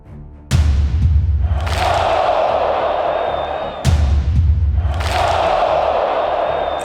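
Minnesota Vikings Skol chant in a packed stadium: two heavy drum booms about three seconds apart, each followed by a loud, sustained unison crowd shout that fills the space.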